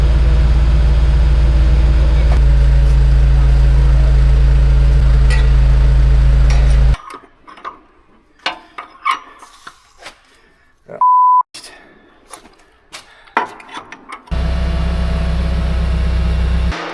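Excavator diesel engine running loud and close with a steady low drone, cutting out abruptly into near quiet with clicks and a short electronic beep, then roaring back at full idle.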